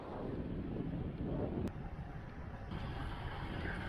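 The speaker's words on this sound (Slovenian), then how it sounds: "ko sem se približal morju, se je veter povsem obrnil in ga imam skoraj natančno v obraz" Headwind near the sea buffets a cyclist's microphone in northern Italy, a continuous low roaring rumble with gusty swells and a sharp click midway, no talking.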